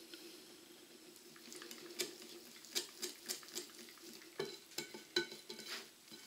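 Batter for a mascarpone and chorizo cake stirred to work in flour, giving quiet, close, irregular scraping and tapping strokes in a bowl.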